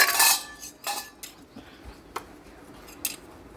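Dishes and a wok being washed, with a few scattered clinks and scrapes of metal utensils and cookware, loudest at the start and then sparse and moderately close.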